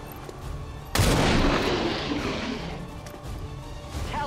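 Gunfire in the XCOM 2 video game: an abrupt loud burst of shots and booming impacts that rings out and decays over a few seconds, with quieter game effects before and after.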